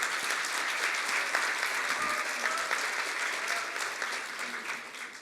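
An audience at a university student reporters' launch ceremony applauds as a singer is welcomed. The clapping is loud and sustained, filling the whole room, and it fades slightly toward the end.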